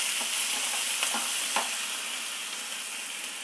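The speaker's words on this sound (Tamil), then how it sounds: "இப்போ இது வெங்காயம் வதங்கட்டும்." Onions for sambar fry in a pan with a pinch of salt, giving a steady, soft sizzle with a few scraping stirs of a spoon close by.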